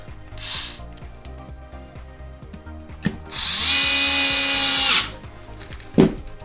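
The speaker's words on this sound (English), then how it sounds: "Use your 2 T10 screws that you pulled off, little black screws that you pulled off. You're gonna screw them in." Power screwdriver driving small black T10 screws into an Xbox One X console, a short whine followed by a longer loud ratcheting whir of about a second and a half, with clicks and handling knocks around it.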